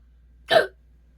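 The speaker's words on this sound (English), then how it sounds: "Hiccups are primarily caused by involuntary spasms of the diaphragm" A single sharp hiccup, one short isolated burst that stands alone against near silence.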